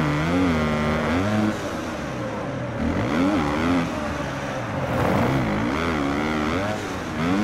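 Kawasaki 250 supercross motorcycles racing at Arlington, 2021: several engines rev and wail with rising and falling pitch as bikes accelerate and back off, loud and continuous.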